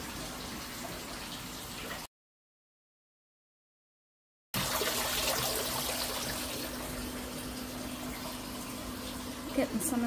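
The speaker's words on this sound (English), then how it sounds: "Water coming out of the tank." Water pours out of a turtle tank in a steady splashing stream, broken by a couple of seconds of silence, then flows on continuously.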